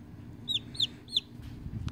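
A pet chicken named Kkokko gives three short, high clucks in quick succession, close and clear over a low background rumble.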